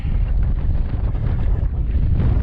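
Steady, roaring wind buffets the microphone throughout, a loud low rumble with gusty fluctuations and no voices.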